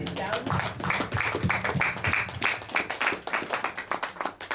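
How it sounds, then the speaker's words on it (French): A church congregation at an ordination service applauds, a dense, steady patter of many hands clapping in a reverberant hall, with voices talking and calling out over it. "Acclamez-les, s'il vous plaît."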